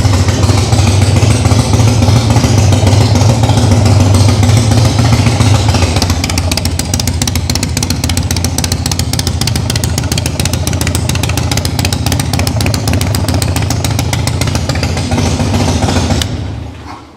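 A 1990 Harley-Davidson Fatboy motorcycle engine runs loud and close, with a deep rumbling revving at first, then a choppy, rapid-pulsed idle that carries on until it drops off at the end.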